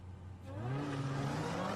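A Jeep Trackhawk's supercharger rising into a whine as the engine builds revs, a rising tonal howl over a rumbling motor, moderately distant and faint, with no voices.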